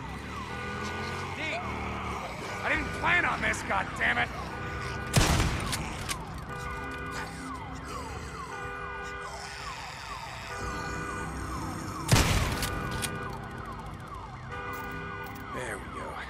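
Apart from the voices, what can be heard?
alarm siren in the video game Days Gone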